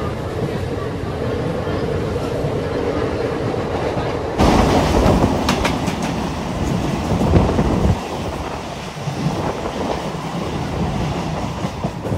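A Howrah–Digha local passenger train running, with continuous rumbling and rhythmic clickety-clack of wheels over rail joints, louder and harsher after a few seconds, close and steady throughout.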